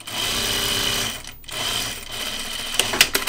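A sewing machine top stitches a shirt dress in a continuous loud mechanical whir, pausing briefly midway before resuming, then ending with a few sharp clicks.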